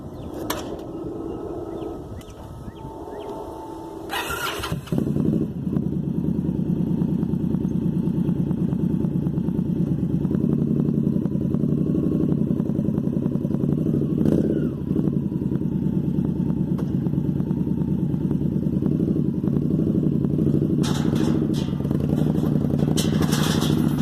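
A used motorcycle goes up a ramp onto a trailer: some clatter and handling noise first, then its engine runs loudly and steadily nearby at a constant idle for about twenty seconds.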